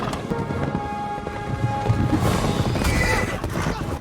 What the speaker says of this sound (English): Take my horse.